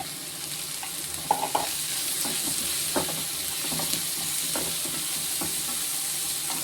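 Chopped onions for kara paniyaram frying in a pan, with a continuous sizzling hiss and occasional soft scrapes and taps from stirring, close and steady throughout, without talk.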